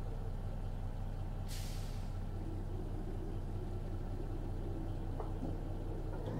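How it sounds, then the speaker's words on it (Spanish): Kenworth T800 truck laboring in American Truck Simulator on a difficult mountain road, a steady low engine drone running throughout, with a sharp hissing air-brake burst near the start. "cómo suena el carro cuando ya se está quedando sin fuerza"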